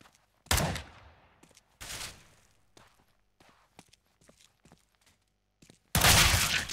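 Gunfire in a one-on-one CS:GO match, a few sharp, loud shot bursts separated by quieter footsteps and small clicks, with the heaviest burst at the end.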